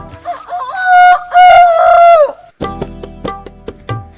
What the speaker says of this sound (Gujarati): સવાર થઈ ગઈ, બોલ્યું કોણ, બોલ્યું કોણ? કુકડો કુકડો, બીજું કોણ ભાઈ, બીજું કોણ?